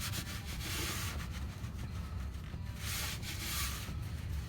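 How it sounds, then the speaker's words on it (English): Cloth rubbing around the oil filter area under a 2013 Honda Odyssey during an oil change, a steady close scrubbing and wiping sound with a few stronger swipes, no talking. "Get it nice and finger tight. Wipe up around here."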